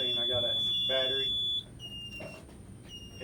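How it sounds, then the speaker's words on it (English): Steady high electronic beeping tones from an alarm panel signalling a battery trouble, continuous at first and then softer, with background chatter and room noise underneath. "When this comes in, you'll hear this beeping."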